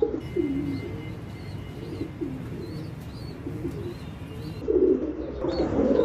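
Domestic pigeons in a loft coo in soft, low, repeated throaty phrases, close and fairly quiet, with a louder burst of cooing near the end over faint chirps.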